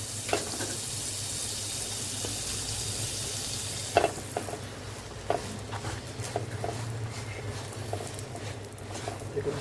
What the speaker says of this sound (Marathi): हे बटर लावून पाव आपण गरम करून घेऊ